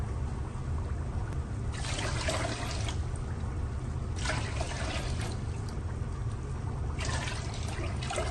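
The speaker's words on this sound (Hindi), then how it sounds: "अब मैं इसके अंदर पानी डाल दूंगी।" Measured water poured into a pan for suji halwa in repeated bursts, three distinct close pours of about a second each separated by quieter gaps, no voices.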